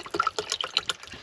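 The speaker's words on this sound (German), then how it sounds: "Mit Wasser aufgießen" Water poured into a shaker holding a scoop of drink powder, a short burst of splashing and trickling, fairly quiet and close.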